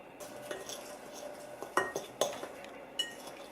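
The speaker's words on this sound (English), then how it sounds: "So we're going to mix the butter and biscuits" A spoon stirs melted butter and crushed biscuits in a bowl, with soft scraping and several sharp clinks against the side, close and fairly quiet.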